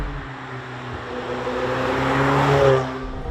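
The turbocharged engine of a 2018 McLaren 720S accelerates hard. Its close, loud note climbs steadily in pitch, then dips sharply at a gear change before pulling up again.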